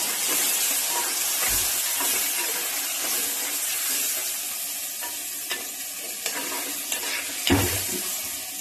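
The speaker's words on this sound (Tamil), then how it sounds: "இந்த தக்காளி நல்லா வதங்கணும்" Three tomatoes sautéing in a pan for a fish curry, giving a steady, bright sizzle and hiss that runs throughout, with a few soft stirring scrapes and knocks near the end.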